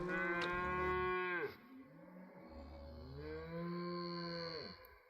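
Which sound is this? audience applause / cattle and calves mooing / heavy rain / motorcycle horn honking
cattle and calves mooing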